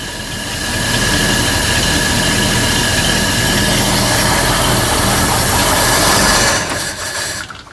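A 1955 Buick Special engine runs loud and close with a steady low rumble, building after the first second and holding evenly before dropping away near the end.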